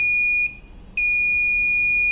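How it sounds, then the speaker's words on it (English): A loud, piercing electronic buzzer tone from an Arduino theft alarm sounds, cuts out for about half a second, then resumes and holds steady. "So here we can get the buzzer alert"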